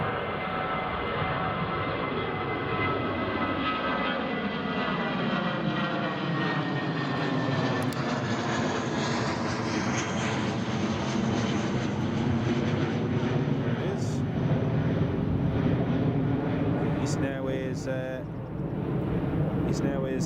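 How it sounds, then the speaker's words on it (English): An Eastern Airways Embraer 170 taxiing at Newcastle Airport, its engines giving a steady, loud jet whine and rumble throughout, with people talking over it. "Eastern Airways Embraer is just taxiing as well, so he's leaving early"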